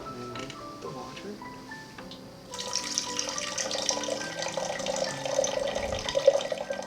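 Hot water is poured from a kettle over about 3 grams of loose Uva Highlands black tea leaves in a brewing vessel, a steady close splashing stream that begins partway through and continues over a faint background.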